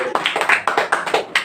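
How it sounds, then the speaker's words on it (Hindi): A small audience at a poetry gathering gives the poet Gupta ji a short round of applause. Roughly a handful of close, distinct claps sound in a quick uneven rhythm, with no talking. "इसमें भाई गुप्ता जी के लिए भी तालियां।"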